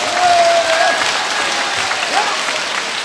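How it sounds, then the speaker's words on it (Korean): Applause from people gathered at a press conference, a dense, steady patter of clapping that holds at an even level throughout. "내가 기자님들에게 박수 한번 쳐드리겠습니다."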